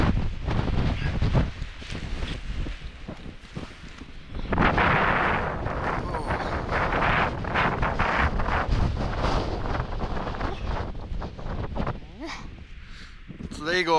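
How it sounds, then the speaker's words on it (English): Strong, gusty wind roars across the microphone at a wild camp in the Lake District, loud and continuous with buffeting surges throughout and a person's voice faintly underneath. "Because that wind is vicious."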